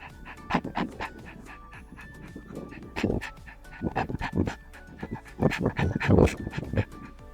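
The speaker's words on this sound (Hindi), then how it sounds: "जब आप ये रैपिड इनहेल एक्सहेल करोगे तो आपका पेट में ऑटोमेटिकली एक अप एंड डाउन मूवमेंट होगा" A person performs rapid doggy-breathing pranayam, with quick, forceful inhale-exhale bursts in an irregular panting rhythm. The breathing is close and clear, and no one speaks over it.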